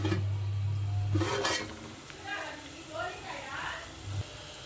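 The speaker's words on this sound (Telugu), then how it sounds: "ఇప్పుడు టమాటా వేసేస్తున్నాను పెడతాను" Chopped tomatoes go into a pan of softened onions for a Sunday korameenu fish curry, giving a brief clatter and stir around the pan, with someone talking over the cooking.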